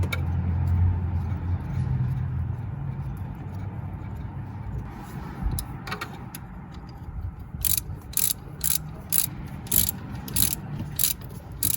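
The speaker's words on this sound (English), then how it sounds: "Tighten it with your ratchet." Ratchet wrench tightening a spark plug on a GM truck such as a Chevrolet Tahoe, Silverado or Suburban, heard as a string of sharp, evenly spaced clicks in the latter half over low engine-bay rumble.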